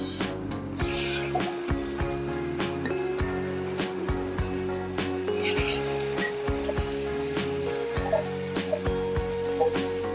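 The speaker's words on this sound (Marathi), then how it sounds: "इथे तेल तापलंय त्यामध्ये आपण हे मोठ्या फ्लेमवरच व्यवस्थित फ्राय करून घ्यायचं आहे" Marinated paneer cubes frying in hot oil over a high flame for a restaurant-style veg korma, giving a steady close sizzle with repeated clatter and scraping of stirring throughout.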